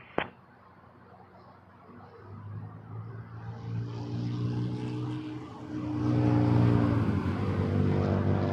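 A heavy airliner approaching to land at Toronto Pearson on runway 24 left, a distant jet rumble that swells and grows louder toward the end, heard alone without talk.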